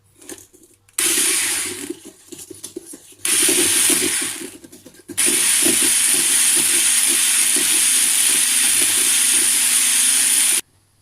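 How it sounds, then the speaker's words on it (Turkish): Granulated sugar being whisked into tahini cake batter with an electric mixer: a loud, close, steady whirring buzz in three runs, two short and one long and continuous, with brief pauses between. "şekerimiz eriyene kadar iyice çırpalım"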